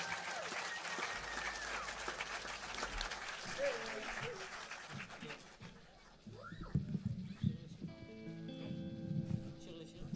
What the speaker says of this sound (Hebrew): מלא כפיים